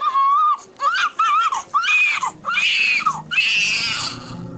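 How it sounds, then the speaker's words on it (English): A baby screams and cries during a circumcision, loud high-pitched wails in bursts with brief gasping pauses, close and unbroken, with no talk over it. "I'm sobbing, baby's screaming"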